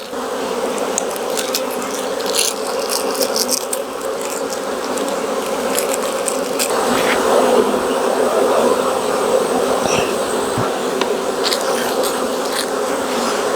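Honey bees from a caught swarm drone steadily at an open hive during a July inspection, a dense close buzz that swells a little midway and keeps going without a break.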